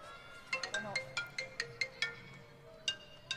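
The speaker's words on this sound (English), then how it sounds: "Why is Shane calling my phone?" A phone ringtone plays a rapid, bright series of chiming tones in repeated bursts, fairly clear over a faint room background with no talk.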